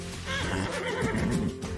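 A horse at an apple orchard near Lorient in Brittany gives one loud, close whinny that rises and wavers for nearly two seconds.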